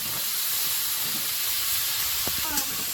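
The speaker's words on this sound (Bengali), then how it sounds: "পেঁয়াজটাও ভালো করে ভেজে নেব" Onions fry in a pan with a steady, close, hissing sizzle that continues throughout, joined by a few faint clicks near the end.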